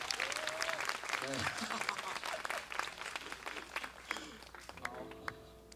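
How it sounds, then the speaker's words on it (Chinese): Audience applause at an indoor stage performance, a burst of clapping that swells and then thins out, with a host speaking over it. "给他一个掌声鼓励好不好？"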